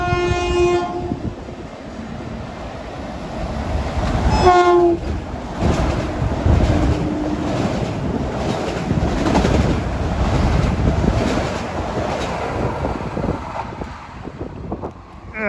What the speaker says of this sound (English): That was 1728 actually, from Atlantic Terminal to Huntington